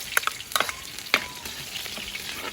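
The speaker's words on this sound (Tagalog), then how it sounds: "So, gisa na natin ang bawang at sibuyas." Garlic and onion sauté in hot oil, a continuous close sizzle broken by several sharp spatula scrapes and clinks against the pan.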